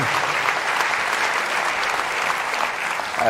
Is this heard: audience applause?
yes